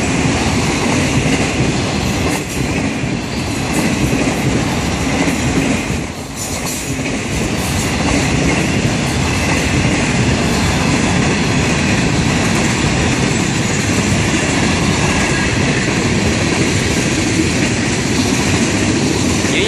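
A Florida East Coast diesel freight train rumbles past at close range, a continuous loud roar of wheels and rail noise with rhythmic clatter and some squeal throughout, no voices.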